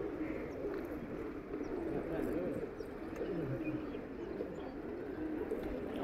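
Soft, low pigeon coos repeat under a steady murmur of background noise, faint and somewhat masked.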